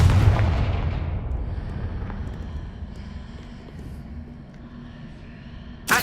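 A Confringo fire-blast spell in Hogwarts Legacy goes off with a loud, booming explosion that rumbles and fades over several seconds, followed by a second sharp burst at the very end.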